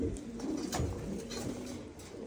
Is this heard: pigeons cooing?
yes